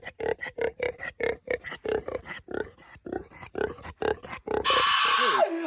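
A pig grunts and oinks in a rapid rhythmic series of loud, close snorts, then a final squealing note trails off at the end.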